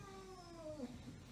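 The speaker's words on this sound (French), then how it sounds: "Donc Coco, c'est un chat." A cat meows once with a long, drawn-out, falling call that bends downward near the end, fairly close and alone with no talk over it.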